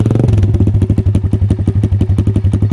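Pit bike fitted with a cheap aftermarket slip-on exhaust idling up close, a loud, throaty, steady rapid putter with a brief rev blip at the start.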